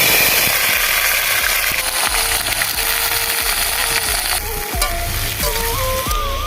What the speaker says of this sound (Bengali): এবার কড়াইতে তেল দিয়ে কাঁকরোল আর আলু ভেজে নেবো